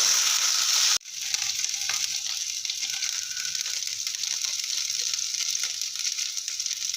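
Ginger-garlic paste frying in a pan, a steady bright sizzle that starts abruptly after a brief sharp clatter near the start and continues evenly and close up, with no talking.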